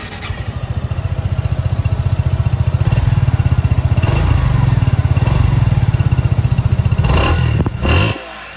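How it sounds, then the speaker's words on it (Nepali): A Suzuki Gixxer 155 Fi ABS motorcycle engine runs close by, idling with a fast, even thumping pulse, then briefly revs up before settling near the end. "इन्जिनको साउन्ड कस्तो आउँछ।"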